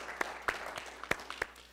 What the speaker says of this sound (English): you all gave her a round of applause for her hard work